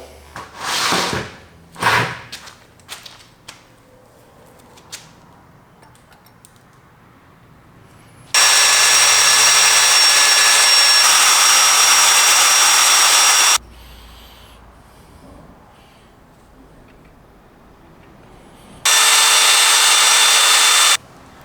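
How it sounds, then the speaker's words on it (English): A few clunks and taps, then a loud, steady high-pitched drill whine as a hole is drilled through a crankshaft, running for several seconds, stopping, and starting again near the end. "let's drill that hole"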